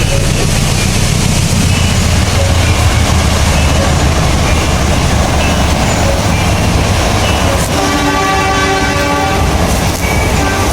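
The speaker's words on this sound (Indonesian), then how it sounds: "dari dekat sendang ini, saya mendengar suara kereta" A train rumbles past on nearby tracks, steady and loud throughout, with a horn-like tonal blast sounding near the end.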